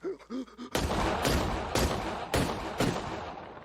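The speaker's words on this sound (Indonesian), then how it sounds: "Di sini dia tewas dengan 6 peluru yang bersarang di tubuhnya." Gunshots in a film execution scene: after a few short vocal sounds, four loud, sharp shots ring out in a slow, uneven sequence, each with a brief reverberant tail.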